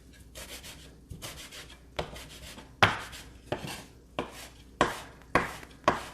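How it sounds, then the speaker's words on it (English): Vegetables being chopped into small slices on a chopping plate: a regular series of sharp knife strikes, roughly one per second, each with a brief scraping tail, close and clear with no voices. "Just kind of chop all that up right there into small little slices"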